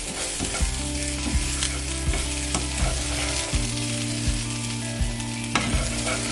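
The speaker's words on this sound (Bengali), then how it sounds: "আলুটা কিছুক্ষণ এইভাবেই ভেজে নেব।" Potatoes fry in refined oil in a wok for a white potato curry, giving a steady close sizzle broken by regular scraping stir strokes roughly every second, with no voices.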